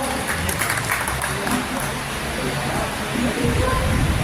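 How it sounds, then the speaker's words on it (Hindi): An audience at a Hindi Journalism Day ceremony in Bahraich claps to welcome a guest, producing a steady, dense wash of applause that continues without a break. "जरा से ताली को बजा कर स्वागत भी करिए आप लोग।"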